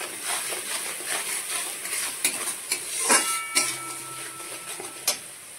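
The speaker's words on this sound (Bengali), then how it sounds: "সব মশলাগুলো একটু মিশিয়ে নেব।" Kashmiri chilli powder, slit green chillies and other spices stirred and frying in oil in a pan for a Bengali hilsa curry with mustard and brinjal: a steady close sizzle broken by a few sharp scrapes and taps of a spoon against the pan.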